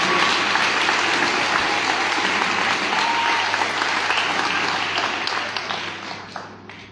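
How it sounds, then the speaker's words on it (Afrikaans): Sustained, dense applause from an audience at the opening of a sports complex in Klawer, steady and loud before tapering off toward the end. "die beneficiaries van hierdie sportkompleks, klawergemeenskap, gee julle self 'n hande klap"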